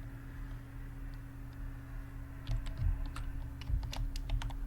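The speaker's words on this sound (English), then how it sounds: "why is my keyboard so loud? Well, it's because it's right next to the microphone" Computer keyboard typing right next to the microphone, a run of close, loud key clicks that grows busier in the second half, with no voices.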